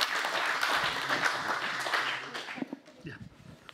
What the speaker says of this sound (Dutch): Ja, klappen mag.